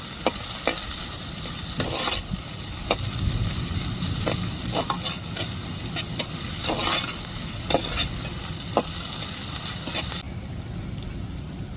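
Onions sauté in a pan with powdered salt, sizzling and frying steadily throughout while a spoon scrapes and taps the pan now and then, close up and without speech.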